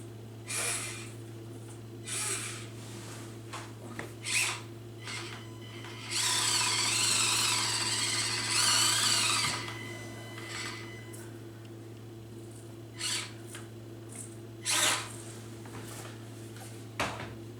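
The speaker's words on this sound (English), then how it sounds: "So it's actually rubbing on the lights." A small Axial SCX24 RC crawler's motor whirs in short bursts and one longer run of a couple of seconds, its parts rubbing against the lights with a scratchy buzzing over a steady low hum.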